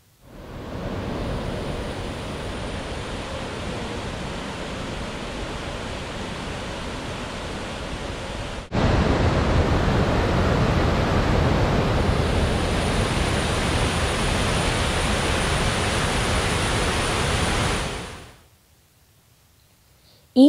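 Thommankuthu waterfall in Thodupuzha, Kerala, roars as a steady, dense rush of falling water that grows louder partway through and continues unbroken until it cuts off near the end.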